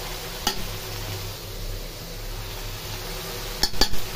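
Onion paste frying in a home kitchen pan as turmeric and chili go in, giving a steady low sizzle with a couple of sharp utensil clinks near the start and end.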